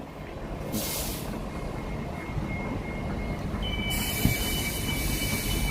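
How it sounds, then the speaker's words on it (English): Walt Disney World train, likely the monorail, rumbling steadily past at close range with a sustained loud roar, thin wheel squeals and brief bright hissing bursts; no talking. "I hear the train."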